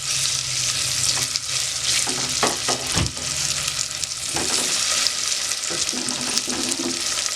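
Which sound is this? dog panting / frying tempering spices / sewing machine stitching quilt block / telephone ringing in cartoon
frying tempering spices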